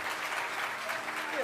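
Audience clapping at a Hindi religious discourse, a dense steady patter of many hands close by and filling the whole moment, with a voice speaking over it.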